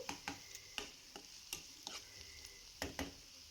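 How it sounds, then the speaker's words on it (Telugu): Onion pieces with ginger-garlic paste frying over medium flame in a tomato curry, a soft sizzle under repeated sharp spoon taps and scrapes against the pan, quiet and close, with no speech. "ఉల్లిపాయ ముక్కలు అల్లం ఉల్లిపాయ పేస్ట్ బాగా ఫ్రై చేయాలి"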